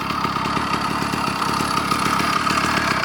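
A cheap two-stroke motorized bicycle engine, running slightly rich, idles steadily with a close, even buzzing putter throughout and no voices.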